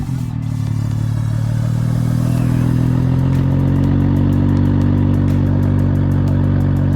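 Exhaust of a supercharged Lamborghini Huracan with a homemade titanium system, a loud, steady idle drone held close by with a slight rise in revs partway through and no talk over it.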